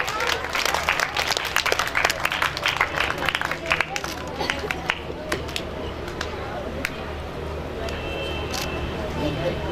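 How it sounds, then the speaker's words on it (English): An audience claps for a speech competition prizewinner at a school event, a burst of many hands that is dense at first and then thins out, with voices in the background. "Do loud clap for your fellow."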